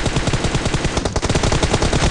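Rapid automatic gunfire in the mobile battle royale game PUBG Mobile during a team deathmatch, loud, dense and continuous bursts filling the whole stretch with no talk.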